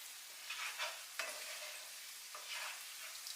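Filling for stuffed mushrooms sautés in a pan with a faint, soft sizzle, broken by a few light stirring scrapes and a sharp clack near the middle, with no talk.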